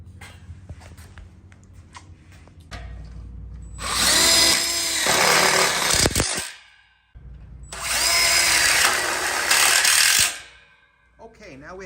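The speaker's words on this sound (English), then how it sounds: "Make sure that when you screw it in, you have it all the way up against the tube" A power drill drives screws into a welded split bar outdoor kitchen counter frame in two loud, whirring bursts of about two seconds each, separated by quieter pauses with faint handling sounds.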